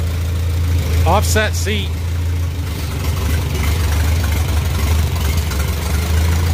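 Small 12-horsepower tractor engine with PTO idling steadily after a choked start, a low continuous rumble throughout, with a brief voice near the start.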